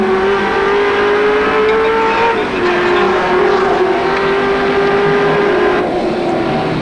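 Touring race cars at Amaroo Park in 1984, a loud sustained engine roar with a shifting pitch as cars come over a crest, near and continuous, with a commentator talking over it.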